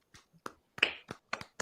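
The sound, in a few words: clapping hands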